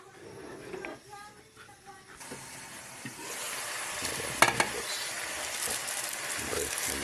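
Marinated chicken adobo sizzles in a pan while it is stirred, the frying growing louder and steadier after a quieter start, with a sharp clink of a utensil midway and a voice speaking over it.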